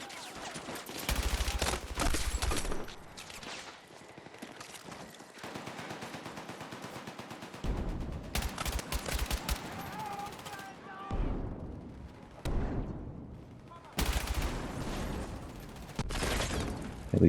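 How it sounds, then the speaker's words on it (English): Grenade launches and gunfire from enemies in a first-person shooter video game, loud bursts and rapid volleys recurring through the stretch, with short quieter gaps between them. "Yep, there he goes, shooting off his freaking grenades again."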